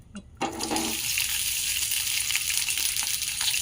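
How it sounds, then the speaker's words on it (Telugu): Onions frying in oil in a pan, a bright steady hiss that jumps up after a short quiet start and holds loud and continuous, with a low voice murmuring faintly beneath. "ఇలా ఆయిల్ వేసుకొని ఇగో ఉల్లిపాయలు వేయించుకుందామండి"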